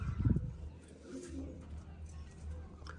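Pigeons coo in low, soft, rolling murmurs close by, with a brief louder burst at the start and steady cooing throughout, held among a loft of large female pigeons kept for racing.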